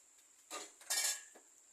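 A lid set onto a cooking pot: two brief metallic clinks close by, the second brighter and ringing slightly longer, then a faint tap, with no talk.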